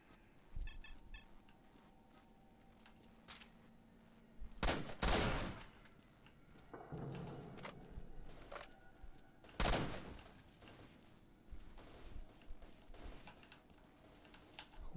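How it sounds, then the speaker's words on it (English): Gunfire in the S.T.A.L.K.E.R.: Shadow of Chernobyl video game, several loud sharp bursts spaced apart over a busy background of game noise, with no talking. "Who are they shooting at?"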